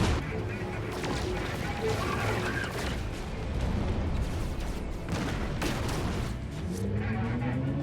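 A fully loaded, upgraded photon cannon on an exploration ship in No Man's Sky fires in dense, rapid bursts amid booms and crashes of space combat, loud and continuous, with a voice talking over it.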